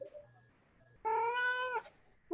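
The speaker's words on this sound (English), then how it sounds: "Which kitty was that?" A pet cat lets out a long, loud drawn-out meow close by in a quiet room during an online utilities committee meeting, followed by the start of a second cry.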